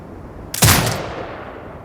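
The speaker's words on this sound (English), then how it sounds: "Exit binocular mode and command the turret to fire." A turret in the video game Sniper Ghost Warrior Contracts 2 fires a single loud, sharp shot that booms and then fades away.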